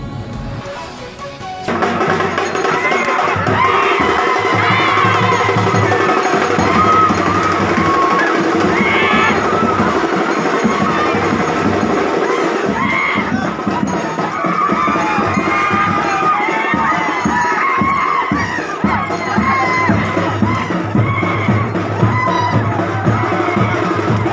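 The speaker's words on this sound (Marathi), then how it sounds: "खिडकीतून बैल कुदवता शेतकऱ्यांनी मोठा जल्लोष केला" At a 400-year-old village tradition in Jalgaon district, Maharashtra, a large outdoor crowd of farmers cheers and shouts loudly and continuously as a bull jumps through a narrow two-and-a-half-foot window, voices overlapping in a dense roar.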